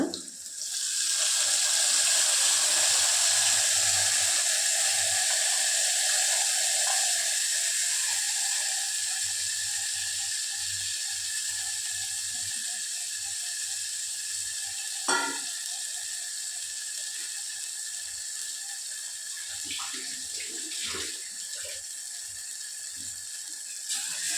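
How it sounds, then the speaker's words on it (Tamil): Tamarind water poured into a hot pan, a steady broadband rush of liquid and sizzle that is loudest at the start and eases slowly, with a few small clinks of utensils near the end. "புளி தண்ணி ஊற்றிக்கலாங்க."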